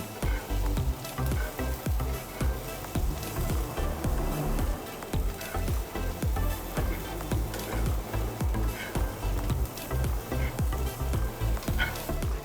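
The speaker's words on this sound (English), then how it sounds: "So now we're gonna add our sweet potatoes to the pan." Sweet potatoes sizzle steadily in a hot pan for a breakfast hash, while a utensil stirs them with repeated scraping and clattering. The frying stays loud and continuous throughout, with no talking.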